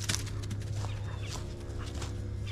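Chickens cluck softly at a distance on a rural property by a frozen pond, faint intermittent calls over a low steady hum and background noise.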